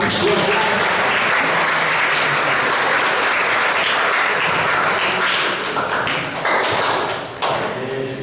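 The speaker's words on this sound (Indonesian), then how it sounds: "Tepuk tangan dulu." A room full of people at a vocational high school graduation claps loudly and steadily, a dense burst of applause that tapers slightly toward the end.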